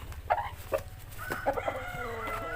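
A rooster crows in a village, several raspy calls rising and breaking over a steady low rumble, fairly close and loud.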